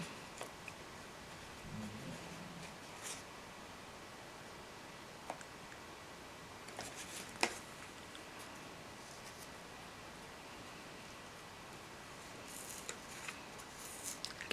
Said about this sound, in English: you can also take your scissors and rough it up a little more